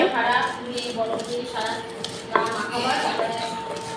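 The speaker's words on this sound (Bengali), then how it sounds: "দেখো শিলনোড়ায় পোস্ত বাটছি, কাঁচা লঙ্কা বাটছি।" Poppy seeds and green chillies are ground on a stone slab with a stone grinder, making rhythmic scraping and knocking strokes close by, partly under talk.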